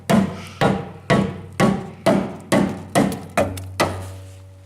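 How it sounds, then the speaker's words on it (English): A hammer strikes a steel car sill on an MGB GT nine times at an even, steady pace, each blow a loud, sharp knock with a brief ringing decay. "We can also try that with the hammer"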